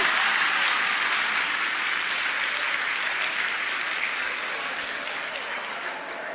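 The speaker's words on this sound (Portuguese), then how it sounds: "Agora você pode aplaudir" Audience applause during a sermon, a congregation clapping in a dense, even wash that holds steady and slowly fades over several seconds.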